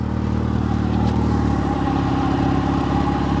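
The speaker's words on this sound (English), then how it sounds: "Look at the exhaust." Nissan GT-R engine idling through a modified exhaust, a loud steady rumble with a low pulsing drone, close by and alone with no voices.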